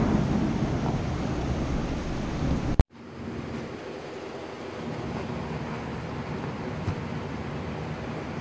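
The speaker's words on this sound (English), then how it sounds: "We got a big storm here, power might go out." Storm wind roars outside, a steady broad rushing noise that cuts off sharply and then comes back as a lower, continuous gusty wash with no voices.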